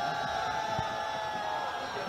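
Football crowd at Jinnah Stadium during a Pakistan versus Afghanistan AFC Asian Cup qualifier: a steady, dense roar of many distant voices with a brief louder shout rising out of it, continuous throughout.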